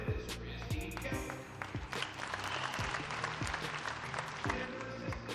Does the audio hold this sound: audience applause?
yes